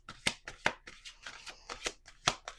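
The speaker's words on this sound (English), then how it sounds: "Just going to pull a few cards, see what falls out." Witching Hour Oracle cards are shuffled by hand in a close, quiet series of crisp riffling snaps and soft slides, about eight regular bursts with no speech.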